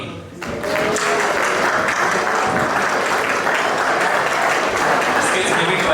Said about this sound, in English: So, a louder applause.